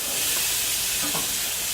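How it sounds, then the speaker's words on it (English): Chicken sizzles loudly on a hot grill, a steady, dense crackling hiss from start to finish. "so you can hear the sizzle"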